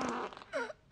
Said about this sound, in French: ça arrive à tout le monde de péter